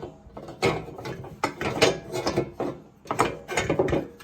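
A clamp on a griddle caddy is fastened onto a Blackstone griddle with bursts of ratcheting, clicking mechanical noise in four or five close, rough clusters.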